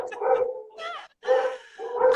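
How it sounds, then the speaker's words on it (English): Pet dogs bark, yip and whimper indoors in excited bursts, a couple of short cries broken by a brief pause, fairly loud and close. "My dogs are barking because they heard your dog."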